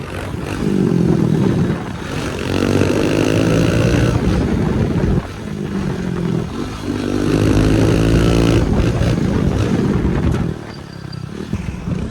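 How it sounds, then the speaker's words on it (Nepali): A loud, close motorcycle engine revving and rumbling, rising and falling in pitch through several throttle bursts with a brief dip between them. "बाइकमा यस्तो बवाल साउन्ड आइरहेछ नि"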